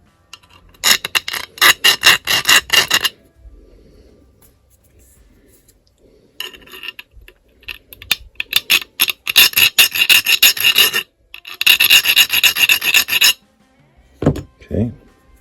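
A file rasps across the steel hammer of a Remington New Model Army revolver to cut a small chamfer, in several bursts of quick, close back-and-forth strokes separated by pauses, ending with a couple of light knocks.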